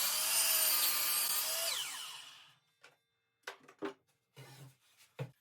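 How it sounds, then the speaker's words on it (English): A table saw cuts a 45-degree bevel in a wooden piece for a birdhouse, a loud sustained whine that winds down as the blade coasts to a stop, followed by several faint knocks and clatters. "so I'm going to tilt my saw over, cut the 45-degree bevel on each end"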